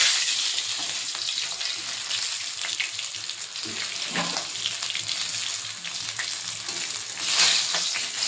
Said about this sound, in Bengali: এবার এই পিসটা ভেজে নেবো